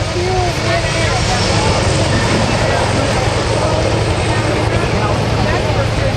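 Military helicopters leave en masse at Rotorfest 2010, their engines and rotors making a loud, continuous roar with a low rhythmic thump, steady for the whole stretch.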